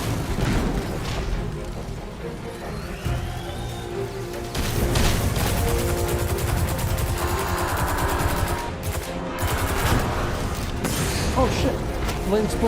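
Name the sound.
explosion in a video game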